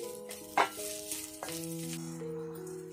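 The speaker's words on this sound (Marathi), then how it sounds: "कोथिंबीर घालूया ओली" Fresh coriander goes into a sizzling drumstick masala, a soft steady frying hiss with a brief stir clatter near the start and light scraping throughout, close and fairly quiet.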